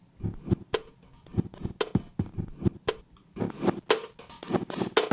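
Reversed sample pitched up an octave in Ableton, dry and without effects: choppy, stuttering bursts of sound in an uneven rhythm, each swelling and cutting off abruptly, moderately quiet and alone.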